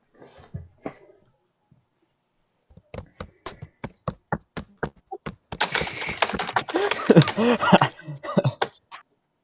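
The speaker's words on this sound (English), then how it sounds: "Sorry if my typing's really loud." Computer keyboard clacks loudly up close in sharp, irregular keystrokes. Scattered taps come first, then faster bursts of typing under a voice talking and a cough.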